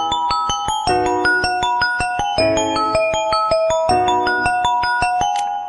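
Xiaomi phone ringtone: a dense, bright electronic melody of layered chiming notes and chords that repeats steadily, loud and close, with no talking.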